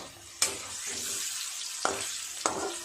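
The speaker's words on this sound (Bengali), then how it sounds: "অপর পাশটাও ভালো করে ভেজে নেব।" Green jackfruit kofta balls fry in hot oil with a continuous sizzle and three sharp pops or clinks as they are turned, close and alone without talk.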